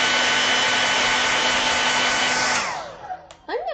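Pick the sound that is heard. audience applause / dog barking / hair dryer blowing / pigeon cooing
hair dryer blowing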